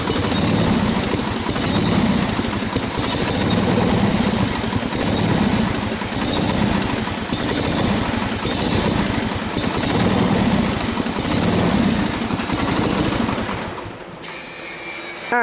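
A small engine idles loudly and steadily with a slightly uneven, pulsing rhythm, then cuts out near the end.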